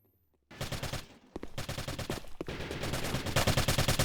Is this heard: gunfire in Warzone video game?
yes